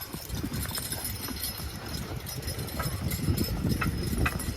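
Draft horses pull a load at a county fair horse pull, with a continuous rumble and thudding hoofbeats over a noisy outdoor crowd background that swells toward the end.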